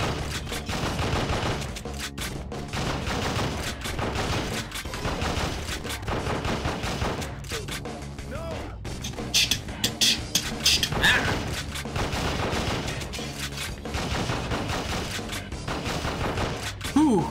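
Sustained video-game gunfire in Endgame on PS2: volleys of shots, booms and thuds pile up over seventeen seconds, with a man's occasional exclamations mixed under the shooting.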